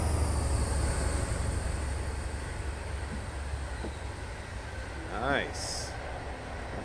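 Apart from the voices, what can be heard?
high-speed train passing in Train Simulator 2016 video game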